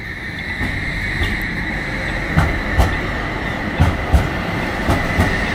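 A tram in Heidelberg, Germany rolls past with a steady rumble, a sustained high wheel whine and several rhythmic clacks over rail joints, heard close with no talk.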